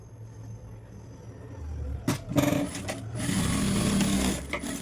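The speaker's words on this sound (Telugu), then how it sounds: "ఇక్కడ టక్స్ ఇచ్చి టక్స్ స్టిచ్ చేసుకోవాలి" A sewing machine stitches tucks on a halter neck garment, starting in short bursts and then running in a steady close mechanical whir, with a low hum underneath and no voices.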